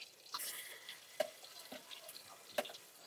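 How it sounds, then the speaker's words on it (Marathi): Ginger garlic paste fries in soybean oil on a village wood-fired stove, giving a soft, quiet sizzle with a few sharp spatula stirs and taps against the pan at irregular intervals. "आता आपण हे अद्रक लसूण भाजून घेतले"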